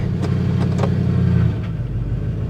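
A stolen Ford F150 truck that wasn't running, its engine idling too high with a steady low rumble that dips and sags toward the end as though close to stalling, heard up close with no talk.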